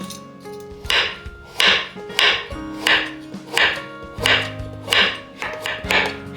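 A knife cuts peeled carrots into strips on a cutting board, producing eight or so crisp, evenly spaced chopping thuds, close and clear with no talking.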